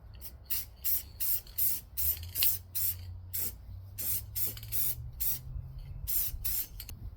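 An aerosol can sprays clear coat onto a car headlight in short, repeated hissing bursts, close and fairly soft, over a faint low hum.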